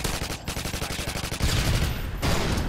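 Loud, rapid bursts of automatic gunfire from a TAR-21 rifle in a Modern Warfare 2 match, rattling shots in quick succession with a brief pause, then more sustained spraying.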